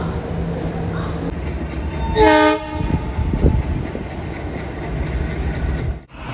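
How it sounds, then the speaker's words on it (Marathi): The Bidar Express sounds a short horn blast amid the rumble of a busy Mumbai station, with faint voices and clatter around it. "आजची आपली जी ट्रेन आहे ती आहे बिदर एक्सप्रेस"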